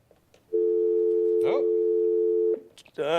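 A steady, loud electronic telephone line tone holds for about two seconds while a radio sports talk show connects a call-in caller, with brief studio voices before and after it.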